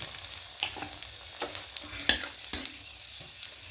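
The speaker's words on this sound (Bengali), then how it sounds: "এবার এই তেলের মধ্যে ফোড়নে দেবো পাঁচ ফোড়ন একটা তেজপাতা আর দুটো শুকনো লঙ্কা" Panch phoron spices, a bay leaf and dried chillies crackle and sizzle in hot oil, quiet close-up pops and spits with occasional stirring clinks.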